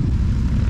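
A motorcycle engine is started with difficulty and runs as a loud, steady, close low rumble.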